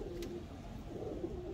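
A soft, low pigeon coo sounds faintly nearby, a short murmuring call repeated a couple of times over background hum, with no speech.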